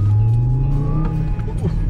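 Audi RS Q3 engine purring under acceleration from inside the car, a loud, close, continuous low hum with a steady rumble, while people talk over it.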